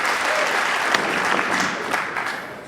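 Warm, sustained applause from the crowd at a US Open pool match, following a player's clean sweep of the table, dense and steady, then gently fading toward the end.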